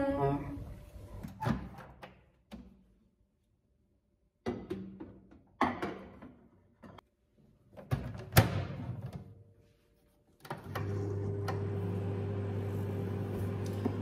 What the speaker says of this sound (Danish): Så er det bare i mikroovnen.